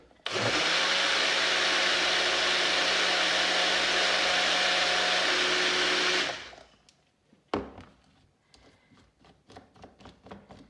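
A blender whirs loudly and steadily for about six seconds while blending a vegan hollandaise sauce, then cuts off, leaving quiet clatter and faint knocks afterward.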